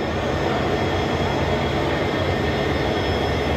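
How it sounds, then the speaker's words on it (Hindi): The Patalkot Express arrives at Ferozepur Cantt station, a loud, continuous, close rumble of the train with no break. "और दोस्तों ये आई है पतालकोट एक्सप्रेस, और ये आ जाई है फिरोजपुर कैंट लेट।"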